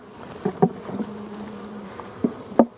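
Bees buzz close by, a low drone with a few louder passes as insects fly near, no talking.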